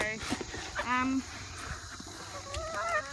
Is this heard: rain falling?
no